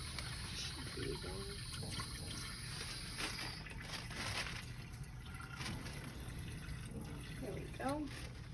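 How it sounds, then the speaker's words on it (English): Warm water runs from a tap into a basin for hand care, a soft, steady filling hiss heard fairly faint, with a few brief voice sounds in the background. "I'm going to go ahead and fill this with some warm water."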